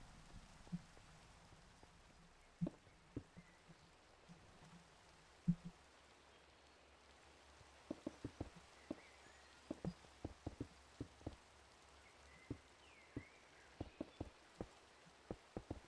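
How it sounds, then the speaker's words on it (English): Rain in Minecraft falls as a faint steady patter, with scattered close drops tapping irregularly and becoming more frequent toward the end, no talking. "A little rainy out here."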